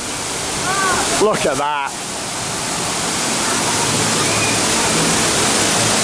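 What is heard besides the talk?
waterfall at Toverland theme park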